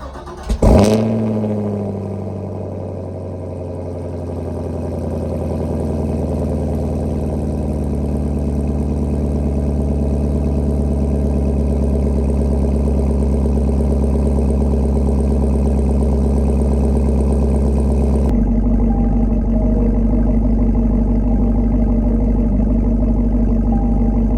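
A 2021 Chevy Camaro 2SS 1LE starts with a sharp bark, then its engine runs in a steady, loud low drone while driving, the tone shifting slightly near the end.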